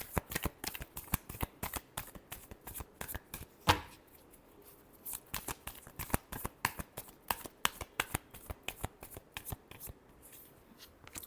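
Tarot cards are shuffled by hand in a quick, steady run of crisp riffling flicks, close and fairly quiet, with one louder snap partway through and no talking.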